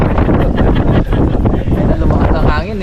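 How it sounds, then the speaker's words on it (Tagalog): Strong wind buffets the microphone with a steady roaring rumble, while a voice talks briefly underneath. "lumakas ang hangin"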